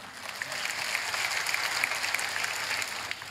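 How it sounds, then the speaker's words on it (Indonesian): Audience applause at a Perindo party national working meeting in Indonesia: steady, dense clapping from a sizable crowd that fills the whole stretch at an even level, with no voices over it. "Tepuk tangan dong."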